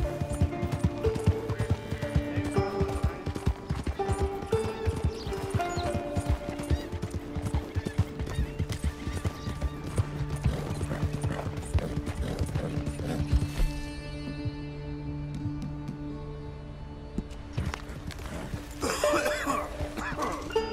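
Horse hooves clip-clop through a Red Dead Redemption 2 game scene, a steady clopping rhythm blended with clanking tack, ambient music and game sounds, with a brief throat-clearing grunt.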